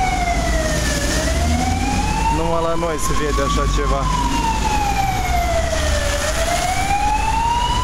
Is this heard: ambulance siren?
yes